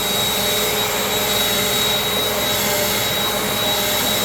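A Bissell vacuum cleaner runs on carpet, giving a steady, loud, close motor whine with an airy rush that holds even for the whole stretch and never pauses.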